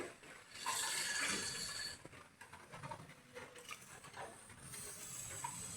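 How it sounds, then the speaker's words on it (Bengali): A bowl of water poured into a pan of fried semolina, a soft splashing patter that settles into quieter bubbling and trickling, heard alone at close range. "এরপর জল দিয়ে দিচ্ছি। ঠিক আছে, আমি এক বাটি জল দিলাম"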